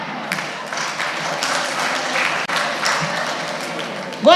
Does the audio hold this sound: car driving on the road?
no